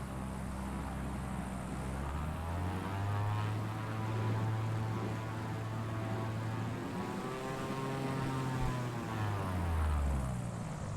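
A propeller aircraft in the PUBG game throttles up, its engine drone rising and falling steadily with a continuous whirring airscrew tone, loud and close throughout with no talk.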